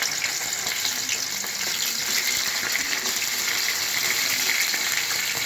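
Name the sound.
frying stuffed mumbar sausage in oil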